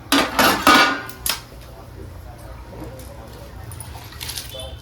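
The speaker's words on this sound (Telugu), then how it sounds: "ఎసరైతే వచ్చింది, రైస్ వేసుకుంటున్నాను" Rice poured into a pot of boiling water for chicken biryani, a burst of rattling and clinking at the start followed by quieter bubbling and faint clatter, with a person talking in the background.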